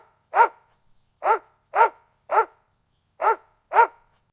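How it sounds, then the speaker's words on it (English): A dog barks six times in a steady series of sharp, clear barks with short gaps between them, close and alone with no other sounds. "Dog bark."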